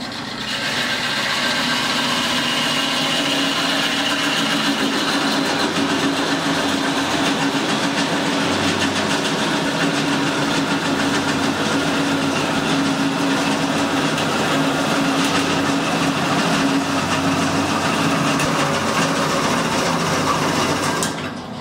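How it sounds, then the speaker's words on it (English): A wood lathe spinning as a turned piece is parted from its holding stock, a continuous loud whirring drone with steady hum and no pauses for the whole stretch. "it's parting the actual piece from its holding stock"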